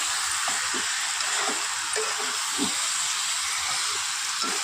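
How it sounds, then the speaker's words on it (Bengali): Boiled jackfruit frying in spiced oil in a pan, giving a loud continuous hiss and sizzle with soft scraping stirs underneath. "ইঁচড়টা দিয়েও খুব ভালো করে কষিয়ে নেব"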